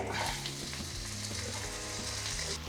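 Green chillies and tomato frying in a pan for a village-style ripe brinjal tamarind curry, a steady close sizzle and crackle with occasional stirring scrapes, no talk.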